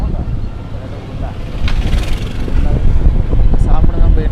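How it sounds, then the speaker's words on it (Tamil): Steady engine drone and wind rumble from a moving motorbike taxi in Bengaluru, with a voice talking over the ride. "நம்ம பைக்கில் பைக் டாக்ஸி புக் பண்ணி போயிட்டுருக்கோம்"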